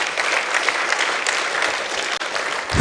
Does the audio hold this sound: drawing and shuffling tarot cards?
no